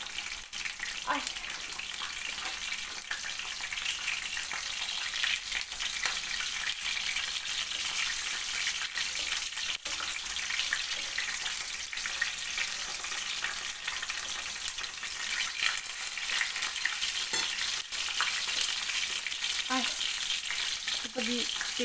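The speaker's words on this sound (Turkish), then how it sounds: "Neden kızartıyoruz ki?" Steady, even sizzling of food frying in a pan, continuous and close, with a few faint clinks now and then and no talking.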